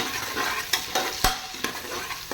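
Onions sautéing in oil inside an open pressure cooker for tomato rice, with a steady close sizzle broken by several sharp stirring scrapes and clicks of a spoon against the pot.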